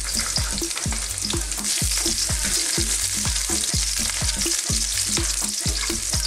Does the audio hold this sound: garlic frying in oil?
yes